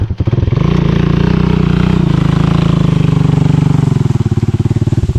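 A motorcycle engine runs close by, loud and pulsing in a fast steady beat, rising slightly after starting and holding a throbbing idle, with no talk over it.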